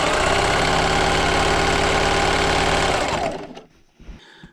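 A sewing machine runs steadily for about three seconds stitching quilt strips, a dense mechanical whir, then stops and leaves a few faint clicks and handling noises.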